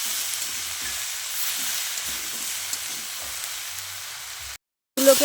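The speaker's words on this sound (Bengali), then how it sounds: "এইভাবে আমি ভালো করে ভেজে নেব সবজিগুলোকে" Spicy mixed vegetables with green chillies and chilli powder fry in a pan with a steady, even sizzle and hiss, then cut off briefly before a louder clatter returns.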